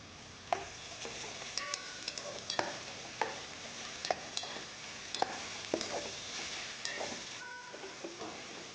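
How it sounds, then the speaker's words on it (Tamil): Quail pieces sautéed with ginger garlic paste in a pan for quail biryani, with a soft steady sizzle broken by repeated scraping and clinking strokes of a spoon stirring close by, no talking. "இந்த இஞ்சி பூண்டு விழுதோடு சேர்த்து இந்த காடையை வந்து நல்லா வதக்கணும் அதில்"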